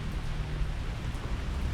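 Steady rain falls during an outdoor photoshoot, a dense even hiss with a low rumble underneath, continuous and moderately faint with no voices.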